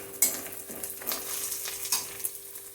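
Ginger and green chili frying in a pan, soft sizzling with scattered scraping stirs of a spatula, fairly quiet and close with no talking.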